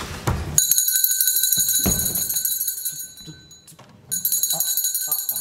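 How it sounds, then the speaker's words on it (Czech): An elevator's alarm bell rings inside a stuck lift car, a loud sustained high metallic ringing that cuts out briefly and then resumes, with voices calling out around it. "Při zaseknutí výtahu stiskněte zvoneček."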